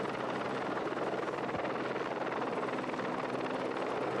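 A helicopter flies over the Marcialonga cross-country ski race, its rotor making a continuous, steady droning throb that stays constant throughout with no voices.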